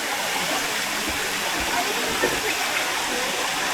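Batlag Falls in Rizal, a waterfall with rushing water making a loud, steady broadband roar close by, continuous for the whole stretch.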